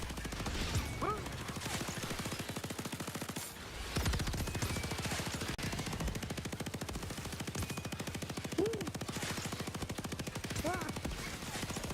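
Rapid, continuous automatic gunfire from a rifle in the Starship Troopers VR shooter, loud and nearly unbroken for the whole stretch, with only a brief pause before the firing resumes.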